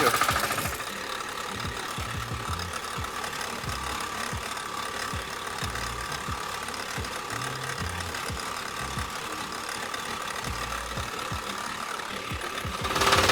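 A DTZ mini tractor engine chugs steadily while driving in low first gear, giving a constant knocking, mid-pitched diesel clatter heard up close with no talk.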